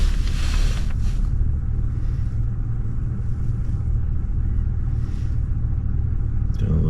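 Strong wind buffeting a beach during surf fishing in northeast Florida, a loud continuous low roar and rumble that drowns out everything else, steady throughout.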